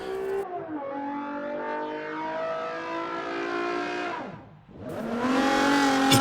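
A race car drifts at Yas Marina, its engine revving high and loud with shifting pitch, dipping briefly near the end before surging back harder.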